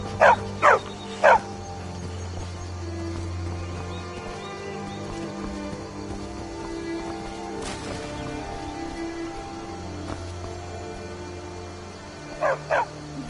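A dog in the Skyrim VR video game barks three times in quick succession, then again twice near the end, loud and close over a low steady game ambience.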